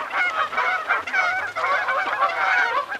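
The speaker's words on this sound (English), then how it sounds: "A sure sign of spring is the calls of Canada geese." Canada geese call in spring near lakes, a loud, close chorus of overlapping nasal honks in quick bursts, one after another with barely a pause.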